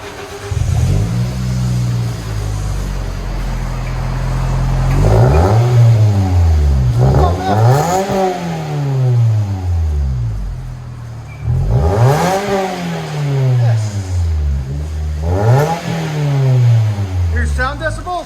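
A 2010 Toyota Matrix S with a Borla Pro-XS exhaust and five-speed manual revs repeatedly and loudly up and down, with several rising and falling sweeps while people talk over it.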